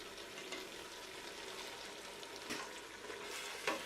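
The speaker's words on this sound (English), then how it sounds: "add in the fried plantains and stir all together" Fried plantains are stirred into a simmering sauce, giving a soft, constant bubbling sizzle with a few faint stirring scrapes, quiet and close.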